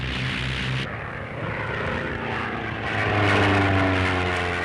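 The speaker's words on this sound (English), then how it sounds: "On completion, the machines are given a thorough tryout, and you'll no doubt be pleased to notice the rapidity of their climb and their handiness in the air." A British propeller aircraft of the WWII era climbs away on a factory test flight. Its engine drones steadily and grows louder and fuller toward the end. No voices are heard.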